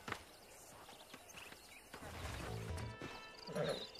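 Red Dead Redemption horse hooves clop and shuffle, followed by a horse's whinny near the end, with faint background ambience.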